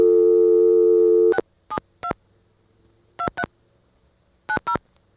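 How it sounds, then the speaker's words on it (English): A 1977 ITT Pentaconta crossbar telephone switch gives a steady dial tone, which cuts off as seven short dialing tone bursts follow in uneven groups, each one crisp and clear against near silence. "We get a dial tone and we dial all 7 digits of the number."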